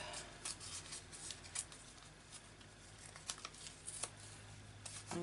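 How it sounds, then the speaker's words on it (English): A paper edge is ripped off by hand for cluster embellishments, heard as faint close crinkling, tearing and rustling bursts in a quiet room, alone with no voices. "Rip that edge off."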